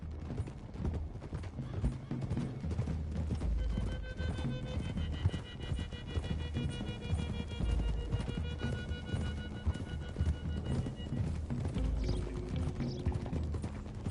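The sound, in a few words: horses galloping in Red Dead Redemption 2 video game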